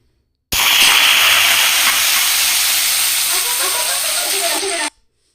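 Potatoes dropped into hot mustard oil with cumin seeds, bursting into a loud, steady steam-like sizzle that starts abruptly, holds strong for several seconds, then cuts off.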